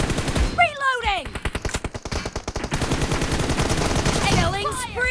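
Rapid automatic gunfire in a mobile shooter game team deathmatch rattles in fast repeated bursts, loud and close, with whooshing game effects at the start and end and voice callouts mixed in.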